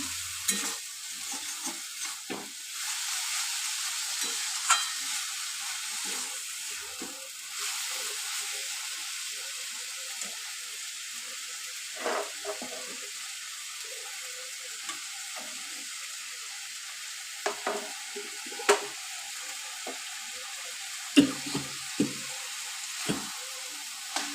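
Khichdi is stirred in a pan on high flame, with a soft continuous sizzle and scattered scraping clinks of the spoon against the pan, fairly quiet and close with no talk.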